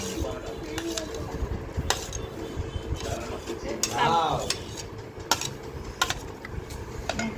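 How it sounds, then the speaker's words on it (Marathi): A spoon stirs mango pulp into a homemade ice cream mixture in a bowl, soft scraping and light clinks of metal against the dish repeating over steady background noise, with people talking faintly nearby. "चमचा आता आम्ही याच्यामध्ये घालत आहे मँगो फॉल"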